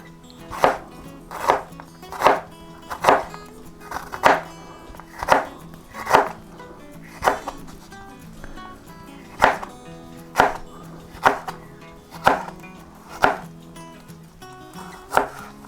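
A knife chops jalapeno peppers into quarter-inch rings on a cutting board, about fifteen crisp, evenly spaced thuds at a steady rhythm, close and clear with no talking.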